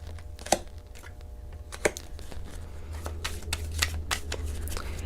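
Crisp riffling and flicking of tarot cards being shuffled, repeated bursts with soft slaps, close and moderately loud over a low steady hum.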